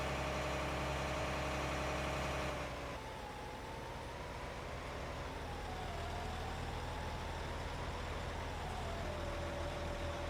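A heavy, good-sized tractor engine in Farming Simulator 19 drones steadily at idle, then its pitch dips and wavers as it works, continuous and unbroken with no talking.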